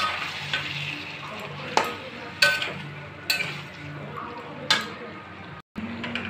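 Chana dal and cabbage are mixed in a frying pan, with a quiet sizzle under a series of distinct utensil scrapes and clinks spaced about a second apart, and a short silent gap near the end.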